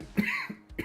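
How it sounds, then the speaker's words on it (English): A short, close cough, two or three dry bursts in under a second. "Pot smoker cough."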